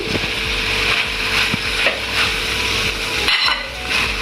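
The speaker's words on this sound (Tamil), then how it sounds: "நல்லா பூ போல் கிளறி எடுக்கணும்" Spatula stirring rice with chicken sausages in a frying pan, with continuous scraping and light sizzling and occasional louder scrapes against the metal, close and steady without talk.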